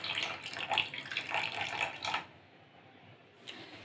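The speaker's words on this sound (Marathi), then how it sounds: "रव्यामध्ये आपल्याला गरम पाणी घालायचं आहे।" Hot water pours into semolina in a deep bowl for puran poli dough, a close, bubbling splash lasting about two seconds, then quiet with a brief clink.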